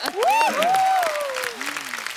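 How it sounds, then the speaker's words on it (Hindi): A studio audience on The Kapil Sharma Show applauds Neetu and Riddhima Kapoor. The clapping is a faint, continuous wash beneath a loud, close voice that exclaims with sliding pitch through most of the moment. "तो एक बार जोरदार तालियां नीतू जी के लिए और रिद्धिमा के लिए"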